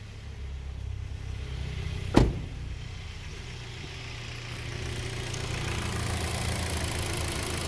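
A 2013 Hyundai Tucson engine with its battery light on idles steadily with a low, even rumble, broken once by a brief sharp click partway through.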